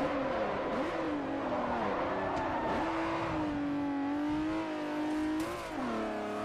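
Game car in Forza 4 revving hard at full throttle, its engine note climbing steadily with gear shifts near 3 and 5.5 seconds, loud and continuous throughout.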